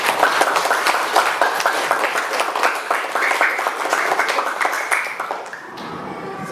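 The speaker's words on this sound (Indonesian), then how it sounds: "Tepuk tangan untuk semuanya." Children in a classroom clap their hands together, a lively burst of fairly close, overlapping claps that runs for several seconds before stopping abruptly near the end.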